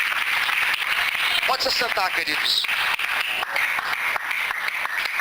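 A church congregation applauds the Lord during an evening service, a dense and steady wash of clapping that fills the room under a pastor's voice speaking over it.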